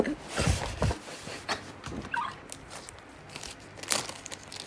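Packaging of a new mechanical keyboard being torn and unwrapped, quiet crinkling and crunching of wrapping in a few short bursts, close by.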